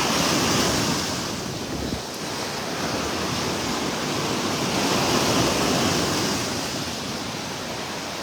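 Ocean waves roll onto a beach in North Naples, Florida, a continuous loud surf roar with gentle swells in intensity and some wind rumble on the microphone.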